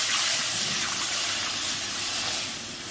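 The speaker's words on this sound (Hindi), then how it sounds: "ये देखिए जो हम गाय का दूध ले गए हैं इसको डाल देते हैं" About a kilo of cow's milk pours into a pan for rasmalai in a steady, continuous gushing stream, close and even, with no speech.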